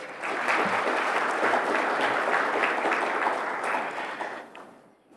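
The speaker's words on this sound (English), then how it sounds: "Please give her a round of applause." Conference audience applauding: dense, sustained clapping from a sizeable crowd in a hall, steady for about four seconds before tapering off to quiet at the end.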